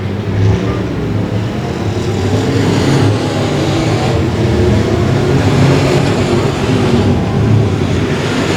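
Race cars at 281 Speedway roar steadily and loudly into turn 3 on the final lap, a dense unbroken engine drone with a continuous rumble that holds for the whole stretch.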